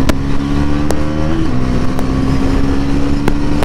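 A Pulsar NS 400Z motorcycle engine pulls hard under acceleration, loud and close, its buzzing tone climbing and shifting through gears with a steady, rough roar.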